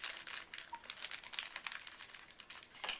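Quiet, close crinkling of a plastic bag holding dishwashing soap in a backpacking cook set, with steady rustles and small crackles throughout, no voices.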